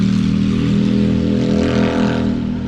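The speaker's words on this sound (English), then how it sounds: "that guy needs a muffler on his motorcycle" A loud motorcycle with no muffler roars past close by, a raw, throaty engine drone holding steady at high volume with a slight shift in pitch as it goes by.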